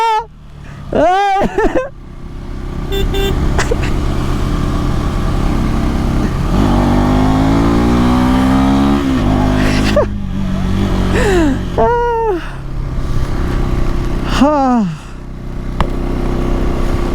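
A stuck vehicle's engine drones loudly and continuously, its pitch rising and falling as it revs under strain. Sharp whistling squeals cut in at a few moments, and voices are heard briefly.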